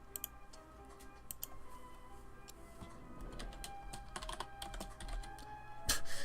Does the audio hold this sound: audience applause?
no